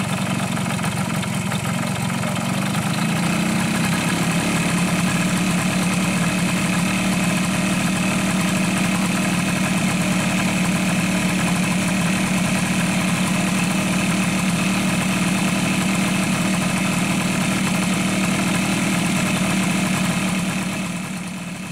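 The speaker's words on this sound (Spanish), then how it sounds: "girar en sentido horario al tornillo del ralentí para aumentar las revoluciones del motor" A Suzuki AX100 motorcycle engine idles steadily and loud up close, a constant buzzing hum that rises slightly in pitch after the first couple of seconds as the idle screw is turned.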